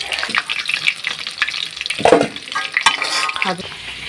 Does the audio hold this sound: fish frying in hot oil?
yes